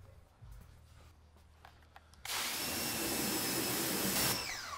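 A water spray hisses loudly and steadily as emulsion is washed out of a screen-printing screen, starting abruptly after a quiet stretch of faint handling noises and continuing close with no talk.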